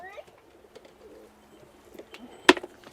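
Andalusian pigeons coo softly in a loft, low murmuring calls scattered through the moment, with a sharp loud knock or flap near the end.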